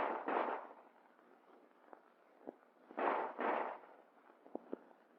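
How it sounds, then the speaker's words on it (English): Handgun shots fired during US Army combat firing training, a few sharp reports spaced apart with faint clicks between, heard moderately distant with no talking. "combat firing trains men to fire instinctively from the standing position, pointing the gun as if it were a finger."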